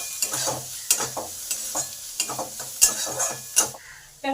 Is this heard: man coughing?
no